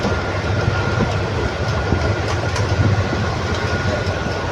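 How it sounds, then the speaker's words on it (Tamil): A train rumbles steadily along the rails between Nagapattinam and Karaikal with a continuous clattering roar and faint rhythmic clicks, loud and close throughout. "சரி ட்ரெயின் வேக எடுத்துருச்சுங்க"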